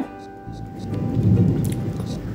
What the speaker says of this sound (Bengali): বাইরে অনেক বজ্রপাত হচ্ছে, একটু পরে হয়তো বা বৃষ্টি নামবে,